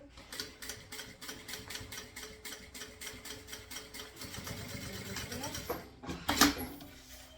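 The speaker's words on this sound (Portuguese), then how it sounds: "E finalizo aqui minha costura." A sewing machine stitches the end of a seam on a small backpack, running in a steady rapid rhythmic chatter that pauses briefly, with a sharp clack near the end. Close and fairly quiet.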